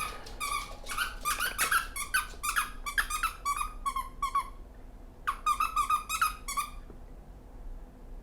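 Rapid bursts of high-pitched squeaks from a squeaky dog toy, squeezed repeatedly in two long flurries separated by a short pause.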